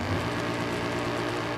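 Swapped 6.2 litre V8 engine in a 2008 BMW M3 in a video game, idling with a steady, slightly lumpy low rumble, heard alone.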